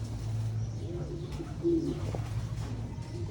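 Young pigeons being fed at a breeder's loft give soft, low coos and a few brief calls, moderately close against steady background hum.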